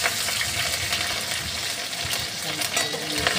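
Green chillies and bay leaves frying in hot oil with caramelizing sugar, a steady close sizzle and crackle running throughout with faint stirring, no talk.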